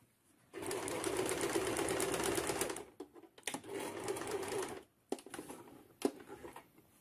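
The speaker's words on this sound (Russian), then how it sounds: "Прострачиваем." A sewing machine runs close and loud while stitching along a skirt slit, in two long continuous bursts followed by short stops, starts and a few clicks.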